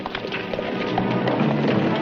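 Several horses set off at a gallop with riders on horseback, a close, busy clatter of hooves over a low rumble, with no voices.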